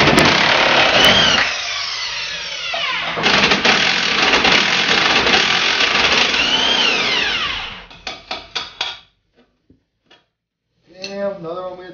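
An angle grinder cuts off a lower control arm bolt on a 2006 Jeep Grand Cherokee 5.7L WK. The loud whine rises and falls for about eight seconds, then gives short bursts before going quiet while a voice talks briefly.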